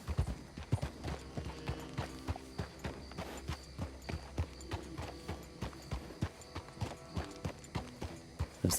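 A horse's hooves clip-clop at a steady walking rhythm in Red Dead Redemption 2, evenly spaced, close thuds arriving as the town wakes at daybreak, with no talking.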